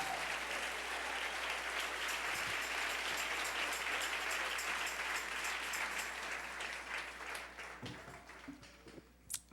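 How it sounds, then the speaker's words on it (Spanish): A church congregation applauds during a Spanish-language Christian service, with sustained dense clapping that tapers off near the end amid a few knocks. "Dele ese aplauso al Rey en esta mañana."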